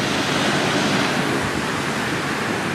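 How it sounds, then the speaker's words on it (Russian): Waves washing onto a Lake Michigan beach at Neshotah Park in Two Rivers, Wisconsin, in a light breeze: a steady, loud, unbroken surf hiss with no voices. "Вот такой вот beach пляж на озере Мичиган. Чистая вода, небольшой ветерок,"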